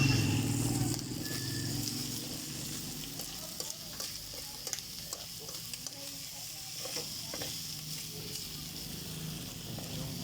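Ingredients for Ilocano papaitan fry in cooking oil, a steady close sizzle with intermittent stirring scrapes and clinks throughout, with no talk.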